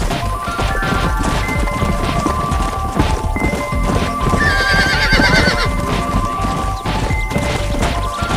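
Horse in the game Red Dead Redemption galloping with steady clip-clop hoofbeats and loud whinnies, a dense, close layer of hooves running throughout with a sharp crash partway through.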